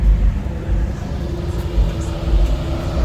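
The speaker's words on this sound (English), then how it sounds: "See the Rango pulling up." A Dodge Durango pulling up with its turbo engine, a close, low, rumbling idle with bass-heavy pulses under steady noise.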